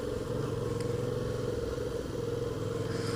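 A Yamaha FZ07 motorcycle turns around at a roundabout at night, its engine giving a steady, close, low droning hum with slight rises in revs and no pauses.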